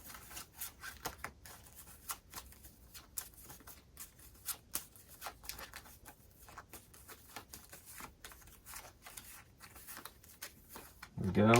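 Cards for the Bardsung board game are shuffled close by at low volume, a series of quick papery riffles and taps repeating in an irregular rhythm.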